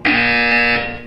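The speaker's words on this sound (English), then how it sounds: "When you hear the buzzer, look down at the floor." A loud, harsh electronic buzzer from the video game Portal 2 sounds once, a rich sustained tone lasting under a second before cutting off and fading, heard alone without any voices.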